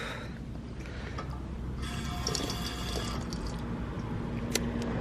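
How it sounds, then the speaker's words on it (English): Boiling hot water pours in a steady liquid rush in the hot outback, a continuous close splashing and filling sound with some brighter gurgles partway through, no talk over it. "It's boiling hot water."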